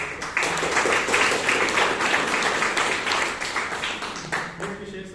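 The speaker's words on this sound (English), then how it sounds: "Can we have a loud round of applause?" A room of Toastmasters meeting attendees in Bangalore gives a loud round of applause, dense steady clapping sustained for several seconds before tapering off near the end.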